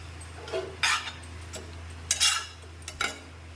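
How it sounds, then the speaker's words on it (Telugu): Spoon scraping and clinking against a pan while jeera rice with ghee, salt and coriander is stirred; a few separate sharp scrapes and taps, close and fairly loud, over a low steady hum, with no talking. "కలుపుకుందాం."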